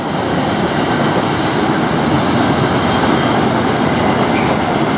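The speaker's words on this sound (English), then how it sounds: "Ooh, short train." A CN manifest freight train rolls past at close range, a loud, steady roar of wheels and rail noise with faint clickety-clack holding level throughout, no voices.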